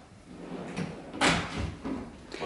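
A drawer holding cleaning supplies in an apartment slides open or shut with soft knocks and a brief rough scrape partway through, all fairly close and moderately loud.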